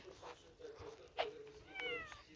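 A cat meowing in a video game: a couple of short, fairly quiet meows, the last one a rising, drawn-out cry, with no talking over them.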